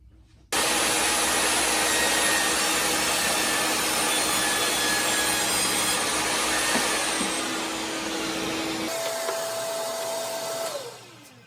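A saw crosscutting a piece of wood across the grain makes a loud, steady whining roar that runs for about ten seconds. It starts abruptly, shifts tone near the end and then winds down as the blade spins to a stop.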